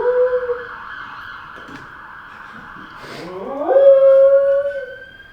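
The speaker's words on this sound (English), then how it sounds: "I didn't know your dog howls." A pet dog howls close by indoors, with two drawn-out, wavering howls, the second rising and louder, sounding much like a siren wail, with no speech.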